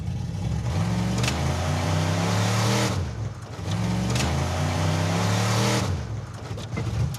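The Mazdarati, a modified Mazda project car, launches at full throttle, its engine roaring loud and close in two long sustained pulls of about three seconds each, each dropping off briefly before the next burst.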